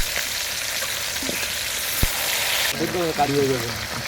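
Fish frying in hot oil in a home kitchen, a steady broadband sizzle throughout with a brief clatter near the middle and a tonal scrape or voice-like sound late on.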